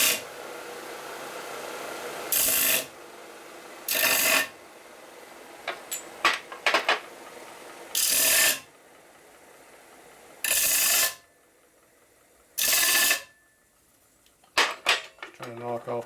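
Bursts of grinding on the tips of shovelhead motorcycle rocker arms from a 1983 FLTC 80ci engine rebuild, several harsh rasping passes separated by pauses with small clinks of metal parts between them.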